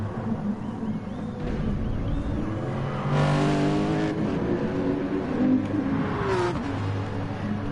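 Race car engines from a GT3-class car in Gran Turismo Sport at Spa, droning steadily and rising in pitch through acceleration, with sustained loud revving across the whole stretch.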